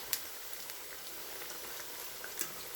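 Akara bean fritters made from bean flour frying in oil on low heat in a pan, a soft, steady sizzle and bubbling hiss with a few faint pops, quiet and without voices.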